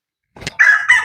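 A rooster crows loudly and close by at a backyard chicken coop after a brief cluck, the call rising and holding in a strained, drawn-out cry.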